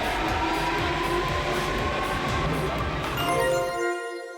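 A Seoul Metro subway train at an above-ground station, loud and close, rumbling with rhythmic wheel clatter before fading as it pulls away, ending in quiet.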